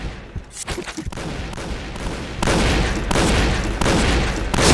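Gunfire in the first-person shooter Point Blank crackles in rapid, close bursts of shots that grow denser and louder toward the end.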